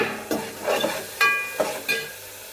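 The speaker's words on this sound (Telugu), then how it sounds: "చిక్కుడుకాయలు కడిగైతే వేసేసుకున్నాను" Washed broad beans hit a hot pan and sizzle, with a soft frying hiss under sharp metallic clinks and scrapes of a stirring utensil.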